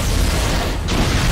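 A loud, dense explosion in the video game Halo: Combat Evolved, a broad rumbling roar that fills the whole short moment without letting up.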